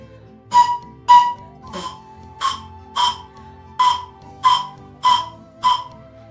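Mapuche wind instrument resembling a pifilca whistle gives nine short, shrill breathy blasts at a steady, evenly spaced rhythm, each a sharp piercing toot with airy noise, heard close and alone.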